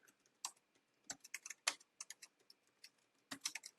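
Password being typed on a computer keyboard: quiet, irregular bursts of sharp key clicks in quick clusters, close by, with no talk.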